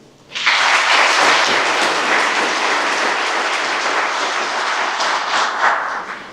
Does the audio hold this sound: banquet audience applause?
yes